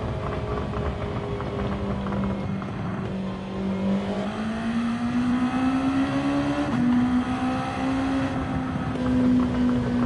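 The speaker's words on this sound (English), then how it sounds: "Driving the Ray Brig NSX." The Ray Brig Honda NSX race car in Gran Turismo 7, its engine droning steadily and climbing gradually in pitch as it accelerates, heard alone with no voices.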